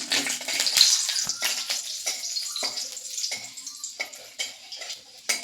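Whole garam masala and dried red chillies spluttering in hot oil, a soft crackling sizzle broken by scattered light scrapes and taps of a spoon against the pan, fairly quiet and close.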